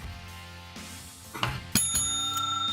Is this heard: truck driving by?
no